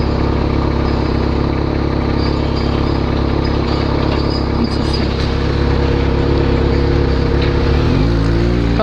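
Yamaha XJ6 motorcycle engine rumbles steadily up close, a loud continuous low throb that holds even, then rises briefly near the end as the throttle opens, with no talking.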